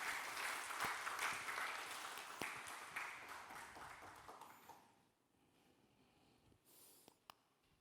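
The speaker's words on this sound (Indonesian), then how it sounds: "kita memberikan tepuk tangan yang meriah" A congregation at a church gathering claps, a fairly faint spread of applause that dies away after about five seconds, leaving a few scattered claps.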